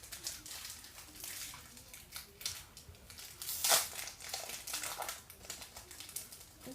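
Foil World Cup trading card booster packs are torn and crinkled open close up, giving a run of quiet, irregular rips and crackles with one sharper tearing burst midway.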